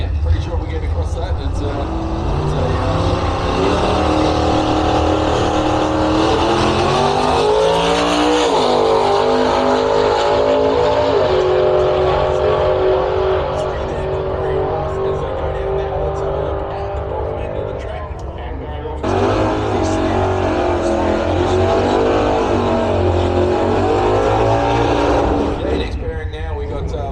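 Drag race cars roar down the strip in a loud, sustained engine blast that rises and shifts in pitch, dropping briefly before a second car screams past, with a commentator talking over the din.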